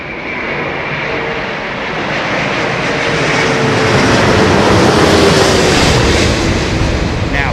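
Airbus A330neo jet with Rolls-Royce Trent 7000 engines passing at London Heathrow Airport, a loud, close, continuous roar that swells steadily over several seconds.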